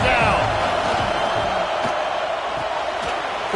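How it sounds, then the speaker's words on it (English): A stadium crowd roars at an American football game on third down, heard as a loud, continuous wash of noise with a commentator talking over it. "The Tide crowd rolling noise down on the Saban field on 3rd down"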